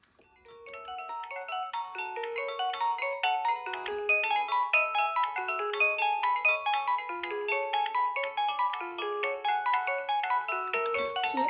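A Philips DECT 511 cordless phone plays a bright electronic melodic ringtone, rapid stepped notes repeating steadily and fairly loud for the whole stretch, with no voices.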